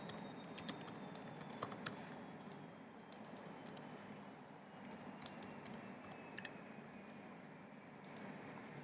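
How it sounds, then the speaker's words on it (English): Keystrokes on a computer keyboard as a password is entered, sounding as quiet clusters of sharp clicks in short bursts with pauses between them, with no talking. "I'm going to key in my password now."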